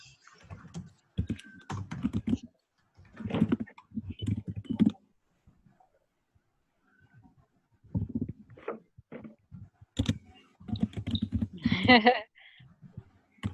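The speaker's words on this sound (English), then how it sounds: "Let's type." Computer keyboard typing during a Zoom study session comes through as soft clustered key clicks under frequent conversational speech from several people, with pauses in between.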